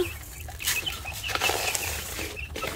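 Farm chickens flapping their wings in a quick, rustling flurry, close by, with faint clucking mixed in and no talk.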